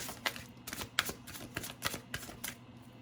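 Animal oracle cards being shuffled during a tarot reading, a quiet rhythmic riffle of paper cards repeating about every half second, close and soft, with faint room hum and no talking.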